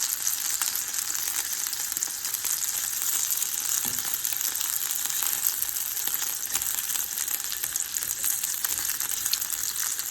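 A pot of pasta boils on the stove, giving a steady, dense bubbling hiss that holds evenly throughout at moderate loudness, close by, with no one talking.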